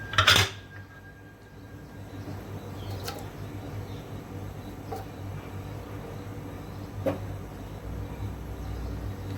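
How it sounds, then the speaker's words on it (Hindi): Sliced onions dropped into hot oil in a pan on a lit stove give a sharp burst of sizzle at the start, easing into a steady low frying hiss with a few faint clinks. "इसमें मैं डाल दूंगी प्याज"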